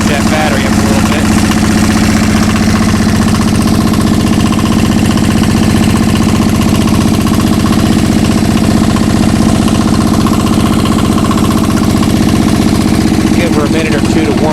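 A diesel engine powering a generator for a lit 22-foot pole Christmas tree idles steadily as it warms up, a loud, even low rumble with constant vibration and no change in pace throughout.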